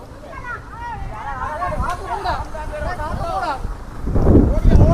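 Steady wind gusts buffet the microphone while flying a giant kite, with people talking over it and a stronger rush of wind near the end.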